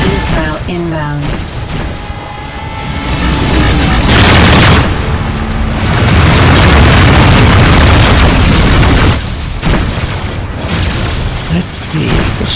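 Missile explosions in the space-combat video game Rebel Galaxy Outlaw, heavy booming bursts rolling through a loud, dense mix of game sound with a voice talking over it.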